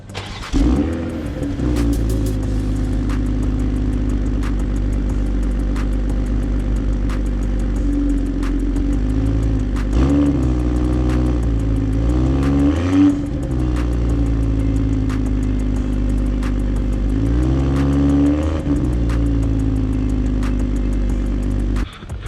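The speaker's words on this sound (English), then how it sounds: "So let me start it up so you can get a little hint of that exhaust note." A BMW M40i engine fires up and settles into a deep, steady idle through its exhaust, with several throttle blips rising and falling in pitch, loud and close throughout.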